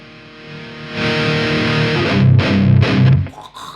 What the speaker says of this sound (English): You get the power tube distortion, kind of sweet spot.